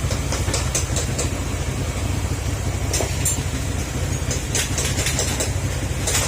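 Motorcycle engine idling steadily after repair of a holed engine and crushed piston, now back to stock parts: an even, low, continuous running rumble close by, with faint ticking on top.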